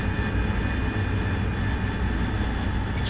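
Steady, loud Harrier jet engine roar in DCS World flight simulation, a continuous broadband drone with faint high whine tones, holding constant as the throttle eases back.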